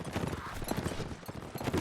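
Cavalry horses gallop in a dense, rapid clatter of hooves during a video game battle, with clashes and battle noise blended in, loud and continuous.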